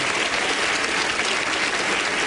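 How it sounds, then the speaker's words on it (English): A studio audience claps throughout a 1990 television grand-prize show for home videos. The applause is dense, even and sustained, heard alone without speech. "That's applause time."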